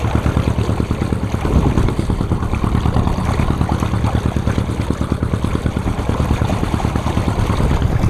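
A bilge pump on a sailing boat drones and throbs continuously, with a rapid regular pulse and a watery rushing underneath, loud and close.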